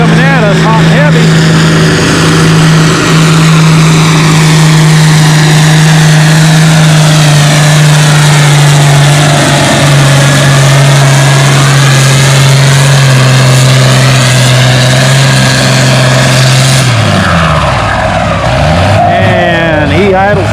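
An antique Allis-Chalmers WD pulling tractor at a tractor pull, its engine droning loud and steady before dropping away toward idle near the end, with an announcer talking over it.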